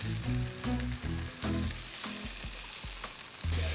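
Scallops seasoned with salt and pepper fry in a pan, giving a steady, close sizzle with occasional stirring clicks and scrapes.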